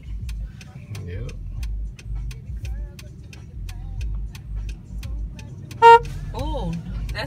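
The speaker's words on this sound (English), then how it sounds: "They got a loud horn though." A loud car horn blasts once at close range in street traffic, cutting sharply over a steady engine and road rumble, with people talking inside the vehicle around it.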